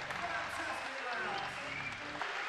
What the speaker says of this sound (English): A rapturous applause, and justifiably so, for these two.